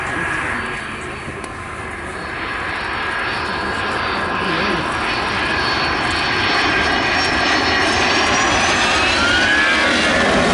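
Turbofan engines of a Royal New Zealand Air Force Boeing 757 at power on a low pass give a loud, sustained jet roar. A high whine slowly shifts in pitch, and the roar builds gradually as the aircraft approaches.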